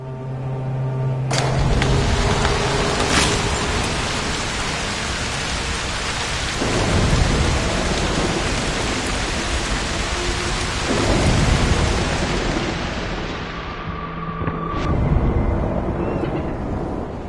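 Thunder rumbles loud and long over steady heavy rain in a stormy forest scene from the video game Broken Pieces, with several deep cracks and rolls building and fading throughout.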